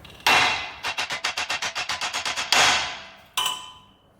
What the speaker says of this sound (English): You gotta grab a hammer and just